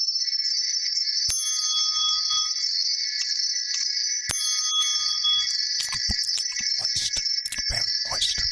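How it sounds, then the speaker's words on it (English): Wind chimes ring out with bright, sustained metallic tones that overlap and decay, struck repeatedly, followed by a flurry of quicker jangling strikes toward the end. "And get your wind chimes out, bro."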